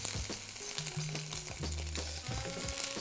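Tomato paste sizzles and fries in a pan over onion and garlic, a soft crackling hiss with scraping stirs and clatters, close and fairly quiet, without talk.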